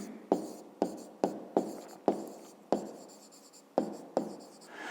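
Handwriting an answer for a fifth-grade maths exercise, close pen or pencil strokes on paper in about eight separate quick taps and scratches, quiet and with no talk.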